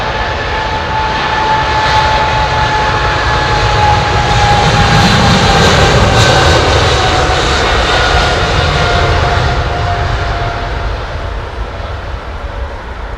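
A jet airliner accelerates down the runway for takeoff at London Heathrow. Its engines give a loud, steady roar that swells in the middle and then eases slightly as the aircraft rotates, with no talking.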